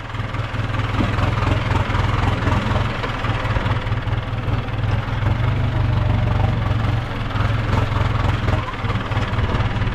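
Ford 6640 tractor ploughing thick grass in an overgrown rubber plantation, its diesel engine chugging loudly and steadily with a deep low throb and no pauses.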